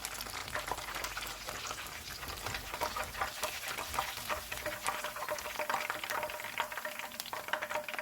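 Lacha chicken pakoras deep frying in hot oil, a steady dense crackle and sizzle with rapid popping bubbles throughout, close and continuous with no talking.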